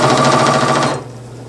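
A Janome C30 sewing machine stitches rapidly through eight layers of denim, a loud steady mechanical chatter that stops abruptly about a second in, leaving a low hum.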